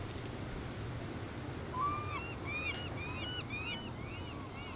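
Birds in the video game Sons of the Forest call with repeated short chirping hoots from around the middle onward, faint over steady low ambient wind noise, with no talking.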